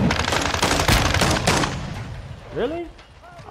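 Shotgun fire from Modern Warfare 2 on the Shipment map crackles loudly in a dense burst of rapid shots, then a voice speaks briefly as the shooting fades.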